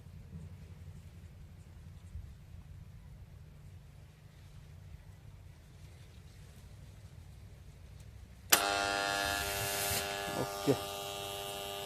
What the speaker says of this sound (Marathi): गाडी चालू आपली मोटर